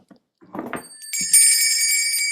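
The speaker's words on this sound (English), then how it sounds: "There's a bell on YouTube." A bright electronic bell chime sounds as a short notification alert, a sustained ringing tone that starts after a brief voice fragment and holds steadily to the end.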